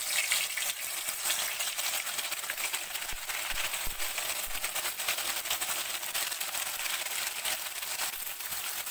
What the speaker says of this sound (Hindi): तो फिश हो रही है, फ्राई हो रही है।